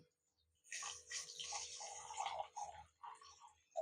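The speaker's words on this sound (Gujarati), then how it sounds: "ખાંડ બુડે એટલું આપણે પાણી નાખશું આમાં" Water pours close up into a pan of sugar for malpua syrup in a steady splashing stream, then breaks off into a few short final splashes.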